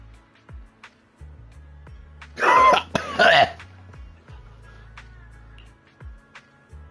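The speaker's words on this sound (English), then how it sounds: "Who coughs after drinking green tea?" Person coughing and clearing their throat after drinking green tea, two short harsh bursts close to the microphone, over quiet game sounds.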